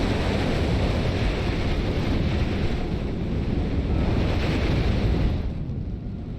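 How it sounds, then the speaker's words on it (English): Bombs exploding in the World War II strategy game Steel Division 2, heard as a dense, continuous roar of overlapping blasts and rumble that stays loud throughout, with no speech over it. "See the bombs going out."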